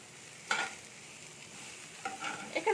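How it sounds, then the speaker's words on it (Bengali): Thin-sliced carrot and beetroot stirred in a hot pan for a vegetarian Mughlai paratha filling, two short scraping bursts of the spoon against the metal over a faint sizzle, close and alone. "দিয়ে এটাকে এবার একসাথে আমি নাড়তে থাকবো"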